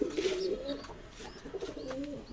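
Pigeons in a coop with freshly hatched chicks coo softly and repeatedly at close range, a few low rolling calls in quiet surroundings.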